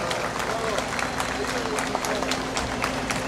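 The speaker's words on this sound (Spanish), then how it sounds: "Fuertes aplausos." An audience applauds at a municipal plaza and viewpoint inauguration in Canchaque during national holiday festivities, with steady dense clapping and a loud crowd wash, while voices carry on underneath.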